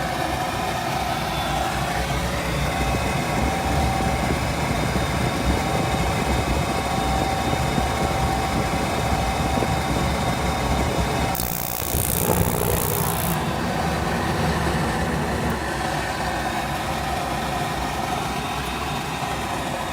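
Goodman gas pack furnace burner running, a steady low roar and hum held close and continuous, with a brief hissing burst partway through.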